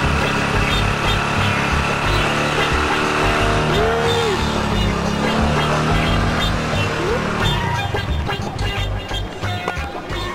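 A car engine roars loudly and close, with a steady droning hum and tonal swells that rise and dip, then the noise thins and fades somewhat near the end.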